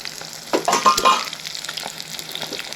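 Eggs frying with salt and chili powder as they are stirred in a hot pan for fried rice, a loud burst of scraping and sizzling that settles into a steady, softer sizzle, close by.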